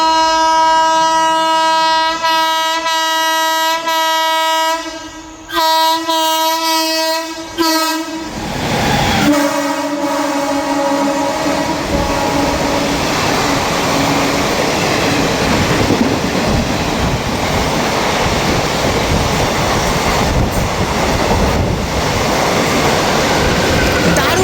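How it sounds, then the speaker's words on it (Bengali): A TOD Special Express from Falakata to Kolkata sounds a loud, sustained horn that breaks off several times, then roars past with a dense rumble and clatter of wagons at night, banked by a WG7 locomotive at the rear. "এই মুহূর্তে আসছে আমাদের পরবর্তী স্পেশাল ট্রেন ফালাকাটা থেকে কলকাতা পর্যন্ত যাওয়া টিওডি স্পেশাল এক্সপ্রেস ট্রেন"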